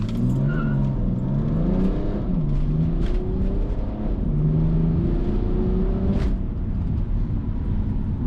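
A BMW E92 330d diesel launches hard with traction control half off, its engine roaring up through rising revs with gear changes and brief tyre squeal, loud and close from inside the car with no talk.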